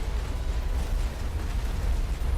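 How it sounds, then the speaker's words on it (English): Continuous rumbling explosions from the game Mass Effect, a dense, loud low roar with crackling bursts running through the whole stretch, no voices. "Something was just constantly exploding next to me."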